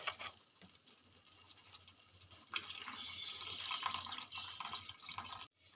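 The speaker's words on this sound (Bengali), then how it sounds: "এবার আমি এখানে দেব একদম অল্প পরিমাণে জল" A little water poured into a pan of eggplant curry, a soft hissing splash that begins quietly, swells about halfway through and stops abruptly near the end, alone without talk.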